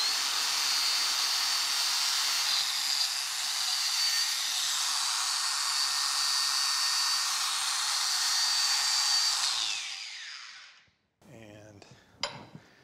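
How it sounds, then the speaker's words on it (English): A wire wheel scrubbing paint off the threads of a Lucas horizontal boring mill, a loud steady high whir for about ten seconds that winds down, followed by brief metallic clinks. "I'm just going to take a wire wheel and just kind of clean this up."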